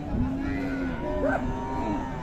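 A single cow or young bull gives a drawn-out moo at Raniganj cattle market in Dinajpur. The call is fairly close and sits over a low murmur of market crowd noise.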